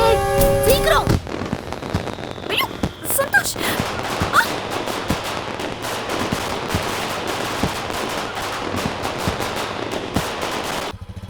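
Firecrackers bursting in the middle of a road: a dense, continuous string of sharp cracks and bangs, loud and close, rattling on for several seconds after an opening tone.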